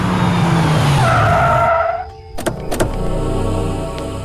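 A car brakes hard to a stop near a toll plaza, giving a loud, close tire screech that cuts off after about two seconds. A few sharp clunks and a low idling rumble follow.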